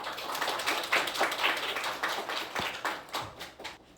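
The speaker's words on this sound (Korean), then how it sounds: "박수로 환영해 주십시오." Steady clapping from a modest audience at a university forum talk, moderately loud and continuous, tapering off toward the end.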